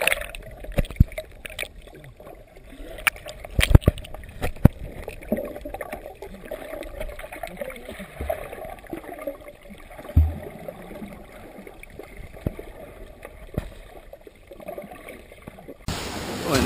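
A boat travels across the Mediterranean Sea toward Capri, with a steady rush of water and engine noise, scattered knocks, and a brief louder burst at the very end.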